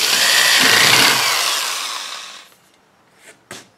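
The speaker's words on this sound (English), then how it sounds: "I will just tighten it until the spoke pushes that screwdriver out and it will no longer drive it" A powered screwdriver tightens a spoke nipple while a motorcycle wheel is being laced, a loud close whirring that spins down after a couple of seconds, followed by two short clicks.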